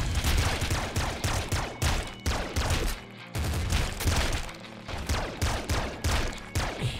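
Dense, continuous bursts of Assault Slugger fire from the Nuclear Throne video game, rapid shotgun-like blasts in quick succession with only brief gaps, loud and close throughout.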